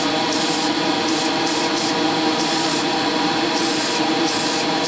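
A spray gun applying varnish to a Golf GTI sputters with a steady loud hiss that cuts in and out in irregular bursts, likely from an air leak at a seal.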